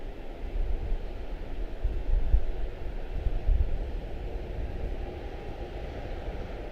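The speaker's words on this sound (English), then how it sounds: "CRJ using the full runway almost." A CRJ regional jet rolls down the runway at Charlotte-Douglas International on takeoff, a broad low engine roar rising and swelling at a distance, mixed with wind rumble against the microphone.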